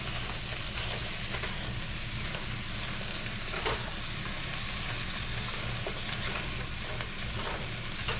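Onions sizzling and frying in bacon grease in a pan, a steady close crackling hiss running throughout with soft stirring scrapes and no talk.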